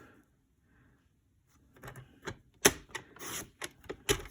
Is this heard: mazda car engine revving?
no